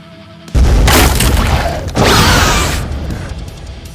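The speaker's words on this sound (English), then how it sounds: "the frag grenade just injures them, blowing bits of pews in all directions" A frag grenade blast inside a cathedral, with pews splintering: a sharp heavy boom followed by a second loud burst and crashing debris, then a long fading rumble.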